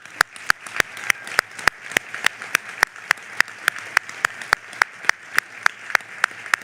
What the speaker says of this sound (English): would you join me in giving them a round of applause for the support and the sacrifices that they have made